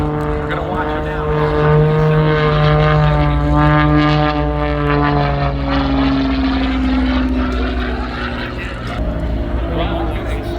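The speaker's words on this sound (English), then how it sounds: "Rob's aircraft, the MXS, is very maneuverable" An MXS aerobatic propeller plane of about 400 horsepower flies a freestyle display at an Oshkosh airshow, its engine drone loud and steady with shifting pitch as it maneuvers, under what seems to be commentary.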